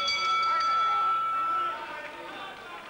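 A ringside bell rings at the end of a round in a televised World of Sport professional wrestling match. It is a clear, sustained metallic ding that rings out and slowly fades, over crowd noise and commentary.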